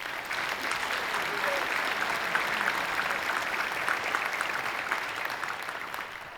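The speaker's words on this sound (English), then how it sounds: "So just give yourselves a round of applause for being involved in all this." Sustained audience applause at EVE Fanfest, a steady wash of many hands clapping that holds evenly from start to finish without voices over it.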